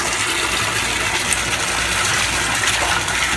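Cool water gushes into an aquarium water-change tank fed by PEX plumbing, a loud, steady, close rushing pour that holds without pause throughout.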